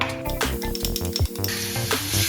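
Garlic sizzling in hot oil left from cooking Chinese sausage for egg fried rice, a steady loud crackle with clinks of a utensil against the pan.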